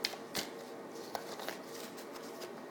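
Tarot cards are shuffled by hand in a quiet room, giving soft riffling and sliding sounds with a few sharper snaps of cards hitting the deck, faint and close with no talking.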